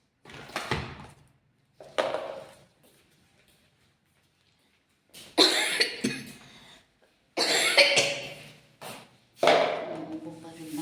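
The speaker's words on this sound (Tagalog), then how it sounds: "Umuubo pa rin ako." A woman who feels unwell coughs in several separate bouts, near and fairly loud, with short silent gaps between them; a few fainter rustling or knocking sounds are also heard.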